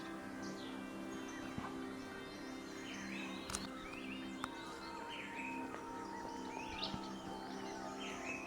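Small common Himalayan birds on a mountain trek chirp and tweet repeatedly in bright, overlapping calls, some near and some farther off, over a steady outdoor background with no talking.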